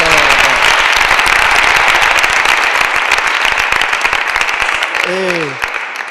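Loud, dense audience applause after a youth choir performance, sustained and close, gradually thinning near the end as a voice begins to speak over it.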